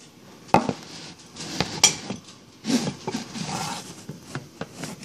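A spatula clatters and clinks against a plate in a home kitchen, with a few sharp knocks followed by scattered softer scrapes and taps, close and fairly quiet.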